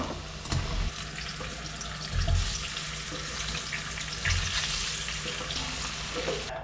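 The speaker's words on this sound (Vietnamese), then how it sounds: "Khoai mình chiên cho nó vàng vàng vàng một mặt rồi đó các bạn" Potato pieces frying in hot oil while cooking chicken curry with coconut milk, a steady broadband sizzle with occasional water-like splashes and stirring bumps, close and continuous with no talk.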